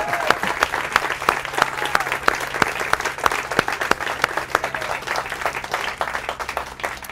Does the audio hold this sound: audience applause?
yes